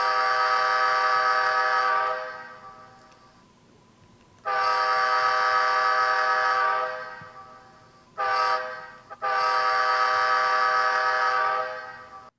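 A Rapido F40PH model locomotive sounds its multi-chime horn in three blasts: a long one, another long one after a pause, then a short toot and a final long blast. The horn is loud and close, with no talking.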